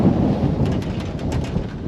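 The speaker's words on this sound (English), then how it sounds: "Wind's getting up, folks." Wind picks up ahead of a storm at a campsite beside Bircham windmill in North Norfolk. It makes a loud, continuous low roar that buffets close to the microphone, and no one speaks.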